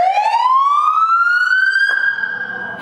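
A fire truck siren sounds one loud, close wail, its pitch sweeping smoothly upward and holding before it cuts off abruptly.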